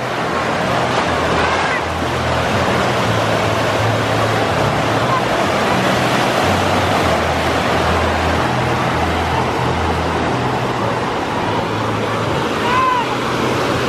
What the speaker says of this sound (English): And here comes the rip current one more time.